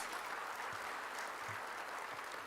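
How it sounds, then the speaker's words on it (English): Applause at a university orientation for new students at Manipal Institute of Technology, Bengaluru, a steady crowd clapping throughout at moderate level, without voices. "can I request everybody to give a very big round of applause to all the new joinees."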